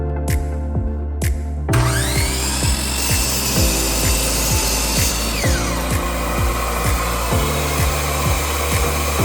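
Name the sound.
miter saw cutting reclaimed pallet wood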